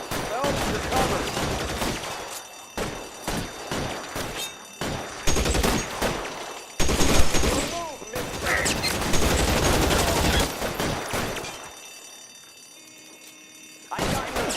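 Gunfire rings out in L.A. Noire, a police shootout at a building with repeated loud bursts of shots, echoing volleys and sharp impacts, interrupted by shouted voices.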